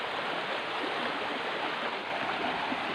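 River water rushing steadily through a forest, a continuous broadband wash of flowing water that stays close and loud, with no voices.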